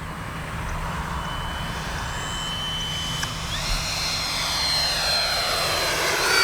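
A radio-controlled YAK-130 model jet flies past with landing gear and flaps lowered, its turbine whine steady and building as it closes in, with a high tone sweeping across the pass; no talk.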